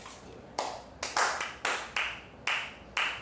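Eight slow, awkward hand claps, spaced unevenly and each one sharp and distinct, sounding close and alone with no voices.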